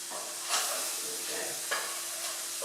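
Garlic and beef mince frying in a pan for spaghetti bolognese, a steady hiss of sizzling with two or three soft scrapes of a stirring spoon, close and even throughout.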